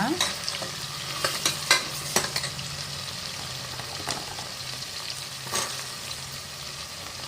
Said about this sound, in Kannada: ಸ್ವಲ್ಪ ಫ್ರೈ ಮಾಡ್ಕೊಳ್ಳೋಣ ಟೊಮೊಟೊನ ಆಗಿದೆ ತರಕಾರಿ ಹಾಕೊಳ್ಳೋಣ ಇವಾಗ